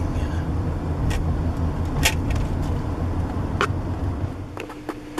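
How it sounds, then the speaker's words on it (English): A bus drives past on a road with a steady, rumbling engine drone and broadband road noise, fairly close, with a few sharp clicks and knocks over the passing traffic. "Yeah, that's a bus too."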